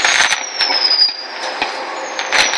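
Consumer fireworks set off outdoors for a Canada Day celebration, a loud close whistling screech rising and trailing over steady crackle and hiss, with brief pops scattered through.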